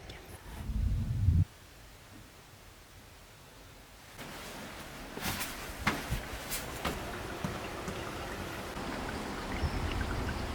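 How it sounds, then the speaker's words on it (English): Heavy rain falls steadily during a cycle tour in County Mayo on Ireland's Wild Atlantic Way, a continuous broadband hiss with scattered louder drops, preceded by a brief low rumble near the start. "it is really rainy"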